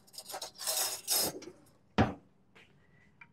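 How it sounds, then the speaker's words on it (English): A spoon scrapes and rubs through a pizza casserole mixture in a bowl, a few rasping strokes followed by a sharp clink and softer taps. "I'm gonna get a spoon and we're gonna stir this around"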